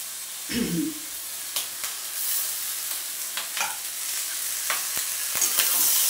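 Curry being stirred and mixed in a frying pan with spices and bay leaf, a soft continuous sizzle broken by scattered scraping and clinking stirs, close and fairly quiet, with a brief low murmur near the start.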